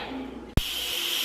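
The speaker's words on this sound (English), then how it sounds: "That noise you hear is the steam coming out of the valve." Steam hisses out of an Instant Pot pressure valve during release, a steady close hiss broken by a sudden thump, then a brighter, louder hiss that continues.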